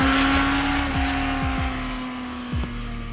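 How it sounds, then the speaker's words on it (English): Motorcycle engine revved hard past 7,000 RPM, roaring intake and screaming exhaust climbing in pitch in repeated surges broken by quick gear shifts, loud and close. "The sound of the intake and the scream of the exhaust"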